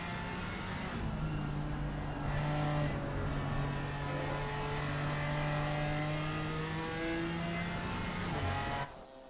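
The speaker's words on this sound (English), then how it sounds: "A great note there from the inline 6 in that BMW." A BMW race car's inline-six engine howls at high revs around the Red Bull Ring during an endurance race, a loud sustained note holding steady before cutting off sharply near the end.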